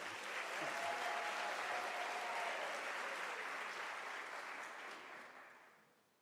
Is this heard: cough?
no